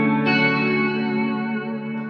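Electric guitar lead tone played through a Boss GT-1000 effects processor, a sustained, heavily processed note with chorus and distortion ringing steadily for about two seconds, with no talking.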